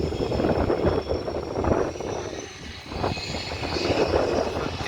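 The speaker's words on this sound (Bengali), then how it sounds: "ফাইটার জেট টেক অফের জন্য প্রস্তুতি নিচ্ছে দেখুন বিমানটি" Fighter jet on an airport runway preparing for takeoff, its engine giving a loud, sustained roar that swells and dips slightly, heard alone without voices.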